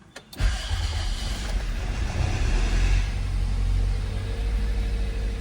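A Toyota Altis engine, recently repaired after losing compression in cylinders 3 and 4, cranks and catches on a cold start, then settles into a steady, fairly loud running rumble heard up close without speech.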